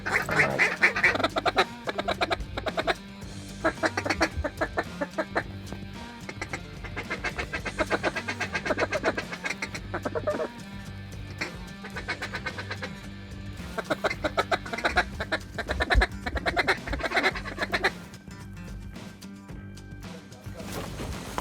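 Mallards and other ducks call repeatedly during a waterfowl hunt in flooded timber, bursts of quacking and honking rising and falling over a long stretch with gaps between flurries.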